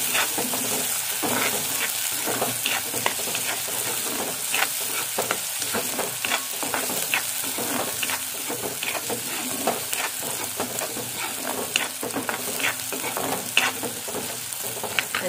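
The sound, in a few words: sautéing taakla wild greens in a pan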